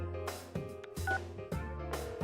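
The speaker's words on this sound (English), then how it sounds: "Guess I'll try his home phone too." A phone is dialed in the video game Persona 4 Arena, with crisp keypad tones over a looping musical backing in a regular rhythm, each beep clear and close.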